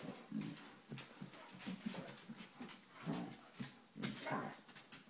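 A dog whimpers in a run of short, soft whines, close by, with light shuffling and rustling around it.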